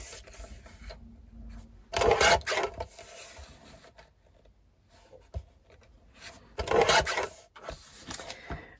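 A piece for a handmade photo album is trimmed down, giving two short bursts of scraping, rasping cutting sounds several seconds apart, with quiet handling noise between them.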